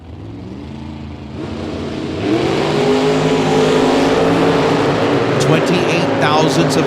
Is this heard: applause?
no